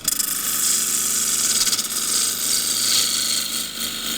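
A wood lathe spins a small dish while a half-inch spindle gouge cuts across the bottom, giving a steady, close, hissing scrape with a low motor hum beneath and no talking.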